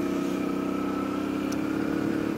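A motorcycle engine heard through a microphone mounted on the bike hums at a steady, loud drone with a continuous throb and no change in pace throughout.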